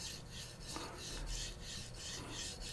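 Steady back-and-forth rasping of a blade being drawn across a whetstone, a continuous gritty scrape repeating in even strokes.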